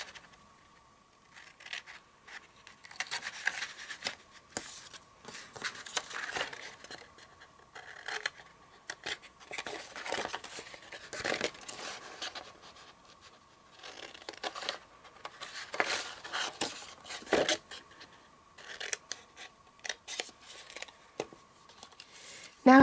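Scissors snip and trim the outer paper rectangles off a papercraft piece, producing faint, irregular close-up cutting, scraping and rustling sounds with quiet gaps between bursts.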